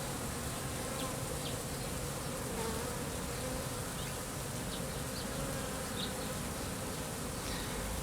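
A swarm of honey bees moving uphill into a hive, with a feeder nearby, gives off a dense, continuous buzzing that stays steady and close throughout, with no talking.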